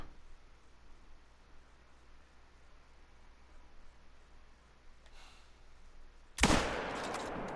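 A single loud .270 rifle shot cracks at a fallow deer in a hunting video game, sudden and close after a long quiet stretch of faint ambient hiss.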